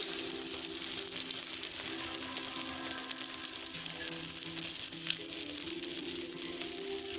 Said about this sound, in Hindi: कबाब अब हम फ्राई कर लेंगे।